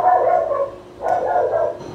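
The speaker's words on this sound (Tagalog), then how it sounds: "Ang ingay sa aso na ito." A dog barks repeatedly near a fish market, in two short bursts that stand out against background market noise.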